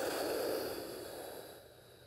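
A single person's breath pushed out hard during a biceps curl, a breathy exhale close by that fades over about two seconds, with no talking.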